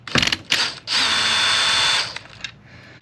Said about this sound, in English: we're going to go ahead and remove the screws that are in there